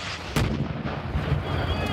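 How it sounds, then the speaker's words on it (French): Heavy explosions boom during a Ukrainian military training exercise, a sharp loud blast followed by continuous rumbling detonations and distant crackle filling the short span. "Les explosions viennent vraiment de partout, ça ressemble beaucoup à de vraies actions militaires."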